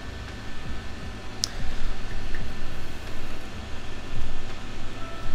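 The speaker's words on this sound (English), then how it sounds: "apologies for the noise, fan noise" Steady broadband fan noise hums at a constant level, with a faint click partway through and no voices.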